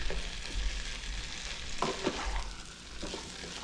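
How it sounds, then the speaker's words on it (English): Mushrooms, onions and steak tips sauté in a pan for scratch-made steak tips with mushroom gravy, giving a steady close sizzle with scraping stirs and a few utensil knocks partway through, with no talking. "So we want to saute this mushrooms with the onions and the meat."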